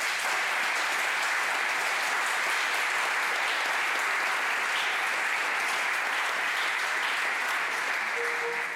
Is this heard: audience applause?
yes